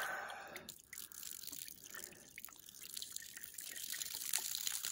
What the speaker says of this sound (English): Pour some warm water on it.